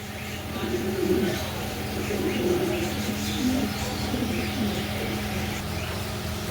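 A pair of pigeons coo close by, soft low throaty coos repeating and overlapping in a steady, continuous murmur with no talking.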